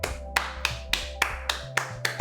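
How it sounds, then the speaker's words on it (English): One hand clapping indoors, eight crisp, evenly spaced claps in quick succession over a faint electronic hum. "Apparently this is the sound of one hand clapping."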